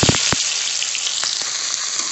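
Onion hitting hot smoking groundnut oil with mustard seeds for a mushroom kulambu, a loud steady sizzle and crackle with a few sharp pops near the start, close up and without talk.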